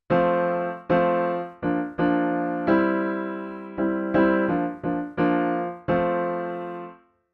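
Pop chord progression on piano played with the right hand only: about a dozen sustained block chords struck one after another in a steady rhythm, each ringing and decaying, close and clear with no talking.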